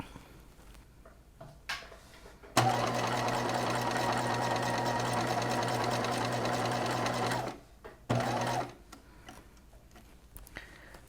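A sewing machine runs a long 4–5 mm stitch along a gown seam in one steady, loud five-second burst, then gives a short second burst after a brief pause, with quiet handling sounds around it.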